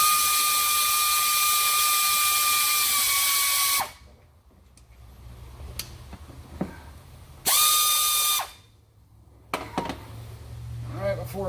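Bolt on the transmission pan of a 2017 Ford Transit being removed with a power drill or impact tool, two loud whirring bursts of a few seconds each, with quieter clinks and shop noise in between.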